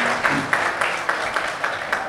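Audience clapping at a community family gala dinner in Manchester, a fairly close, uneven applause with some individual claps standing out in a loose rhythm, with faint voices in the room.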